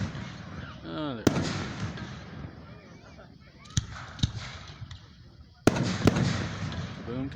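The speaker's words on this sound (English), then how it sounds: "we got fireworks going off on the other side, to the left, to the right, and behind us." Fireworks burst at a 2022 Fourth of July show in Booneville, several sharp cracking explosions at irregular intervals, some near and loud, others fainter, over a low outdoor murmur with occasional voices.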